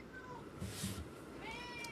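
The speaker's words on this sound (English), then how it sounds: "Is that a cat?" A cat meows faintly twice, thin rising cries half-buried in a steady broadband hiss and low background noise, with a brief breathy burst between them.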